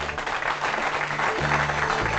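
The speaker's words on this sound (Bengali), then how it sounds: "অভিষেকের জন্য জোরে হাততালি।" Audience applause fills a short stretch, a dense, steady clatter of many hands clapping for Abhishek after he is offered the chance to release an album with a records label, with a low hum underneath.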